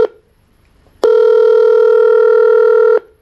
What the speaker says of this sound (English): now Uber Conference is ringing